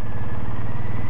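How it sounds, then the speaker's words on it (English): A Triumph Bonneville T100 motorcycle on its stock exhaust runs with a steady, loud, close engine throb and rapid pulsing beat, no voices over it. "This is just the stock exhaust, but yeah, it sounds pretty nice."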